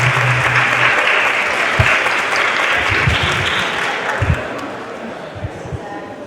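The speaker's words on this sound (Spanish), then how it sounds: "Los aplaudimos a este grupo también." A classroom workshop audience applauds a group of students, loud sustained clapping from many hands close by, with a few low thumps and faint voices mixed into the crowd.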